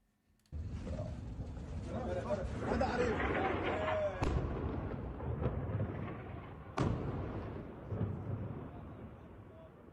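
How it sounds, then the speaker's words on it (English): Airstrikes land in combat footage: two sharp, heavy blasts punch through a continuous low rumble, with voices faintly mixed in. "Here's at least one video of those airstrikes."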